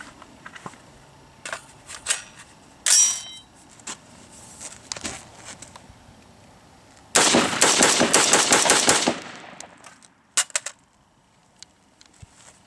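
An AR-15 rifle with a 16-inch heavy H-bar barrel and full-size A2 stock fires outdoors: scattered single shots early on, then a loud rapid string of shots for about two seconds, followed by a few more isolated cracks.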